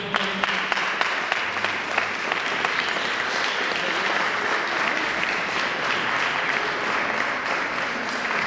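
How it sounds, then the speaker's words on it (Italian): Audience in a church applauding at a centenary concert, steady sustained clapping from a full crowd that fills the space evenly for several seconds. "Facciamo un applauso."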